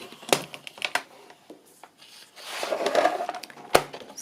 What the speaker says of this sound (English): let's just get my trimmer, cut this to size